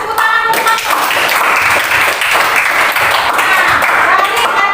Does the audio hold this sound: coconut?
no